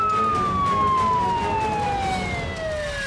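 A fire engine siren wails close and loud for the whole stretch, its tone sliding slowly downward as the truck arrives on a road, with traffic rumble beneath and no voices.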